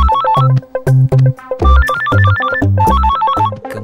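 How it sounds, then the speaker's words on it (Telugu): A telephone rings close and loud, playing a bright electronic melody ringtone in repeating phrases with brief gaps between them. "ఫోన్ ఎత్తుర్రి."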